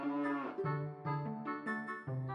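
A cow in Ocarina of Time 3D gives a run of loud, close, drawn-out synthetic moos, several rising and falling calls in quick succession with no talking over them.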